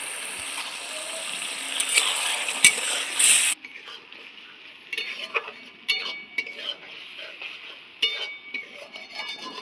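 Masala spices fry and get stirred in a pan for a magur catfish curry: a loud hissing sizzle opens, then drops sharply to quieter scraping stirs and intermittent spatula clatters, with no talking.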